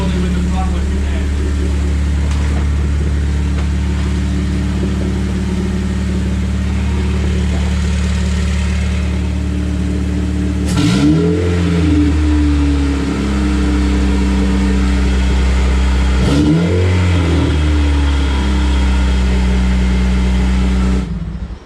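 A K24 engine fitted in a Porsche 996 runs at its first start with a steady, droning hum. Two brief throttle blips rise and fall midway through.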